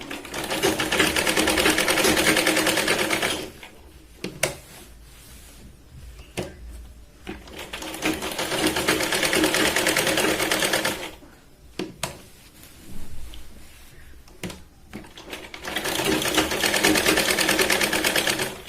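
A sewing machine runs stitches along the shoulder seam of a katori blouse, going over it two to three times: three loud, steady whirring runs separated by short quiet pauses with faint handling noises.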